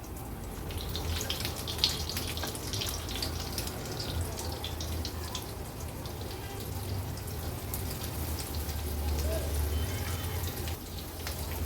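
Pomfret fish stuffed with coriander and mint laid one by one into about three tablespoons of hot oil on a tava over a medium flame, giving a steady, continuous crackling sizzle throughout.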